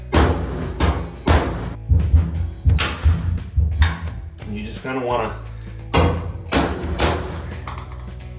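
Several sharp metallic bangs and thuds in quick bursts, fairly loud and close, as a knockout is hammered out of an LG dryer's side vent panel, with a person talking in between.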